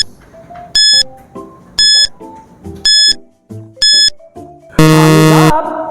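Quiz countdown timer: electronic beeps and tones ticking out in a regular rhythm, roughly once per second, with bright chime bursts, ending in a loud sustained buzzer-like tone.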